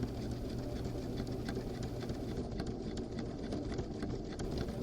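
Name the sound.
sewing machine top stitching a lined handbag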